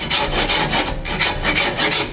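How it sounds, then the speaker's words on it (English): A rasp files the wooden handle of a clipping hammer clamped slightly tilted in a vise, giving loud, close, rhythmic rubbing strokes, about four to five back-and-forth passes with no voices. "I've tilted this hammer up in my vise slightly so that I can rasp flat with my vise."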